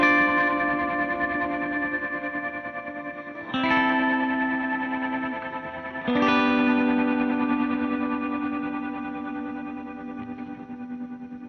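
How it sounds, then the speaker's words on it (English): Sustained guitar chords through a Meris LVX pedal's tremolo reverb swim in a wavering, reverb-soaked wash, with two fresh strums ringing out and slowly decaying, no voices. "The LVX can totally do the tremolo reverb thing."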